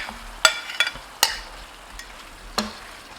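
Steak bites and their juices go back into a switched-off skillet, with a few sharp utensil clacks and light stirring over a faint, fading sizzle.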